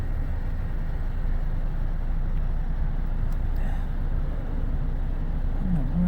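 Charter buses on a road in McAllen, Texas, heard as a steady low engine rumble and road noise from close by, continuous throughout, with a faint brief squeal near the end.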